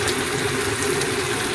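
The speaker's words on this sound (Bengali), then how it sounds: "এবার এতে আমি দেব সামান্য জল।" A little water poured into okra curry that has been fried with spices in a pan, a steady close watery rush running the whole brief moment without pause.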